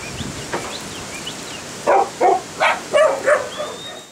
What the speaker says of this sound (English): The puppies start to bark when the sheep are on the fence